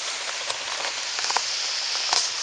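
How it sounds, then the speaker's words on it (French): Steady patter of rain drumming on a tent near the seaside, a dense hiss with scattered sharper drops, close and continuous with no voices. "La pluie, je crois que c'est la pluie."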